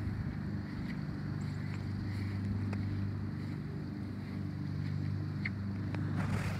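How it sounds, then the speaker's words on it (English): Strong, chilly wind blowing outdoors beside a house's back porch swing, a constant loud roar and rumble buffeting the microphone for the whole stretch, with a few faint ticks and creaks. "It's very windy out."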